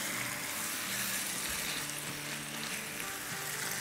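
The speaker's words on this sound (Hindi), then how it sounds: "तो चिकन को और प्याजों को अराउंड हम भूनेंगे 3 से 4 मिनट।" Chicken and onions fry in a pot over high flame, giving a soft, steady sizzle that stays faint and continuous throughout, with no talking.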